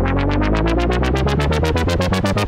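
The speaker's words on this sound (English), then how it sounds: "kind of like a very fast rhythmic wobble effect on the filter, which fades in and then sounds like this" An Elektron Digitone or Digitakt synth plays a sustained tone with a fast rhythmic filter wobble, about seven pulses per second, loud and close, with the sweeps growing steadily more pronounced.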